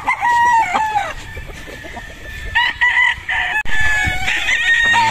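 A Boston Roundhead gamecock rooster crows loudly and close, with repeated cock-a-doodle calls and some clucking, no talk over it.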